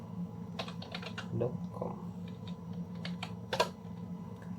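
A computer keyboard is tapped in quick, close bursts of keystrokes while a web address is entered, with faint talk and a low hum underneath.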